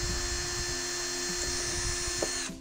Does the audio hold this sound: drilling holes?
yes